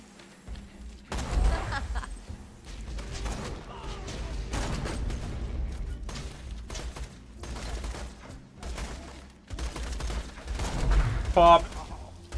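Jakobs sniper rifle fire in the video game Borderlands 2, a string of loud booming shots spaced irregularly, mixed with game effects and other gunfire crackle.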